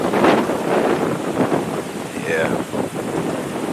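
Strong gusting wind roars outdoors on a sunny day, buffeting the microphone steadily throughout with rumbling turbulence.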